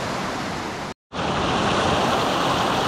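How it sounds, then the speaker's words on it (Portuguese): Cachoeira do Mutum, a jungle waterfall in Presidente Figueiredo, gives off a loud, continuous rushing roar of falling water that cuts out for a split second before returning just as strong. "Cachoeira do Mutum aqui, Presidente Figueiredo."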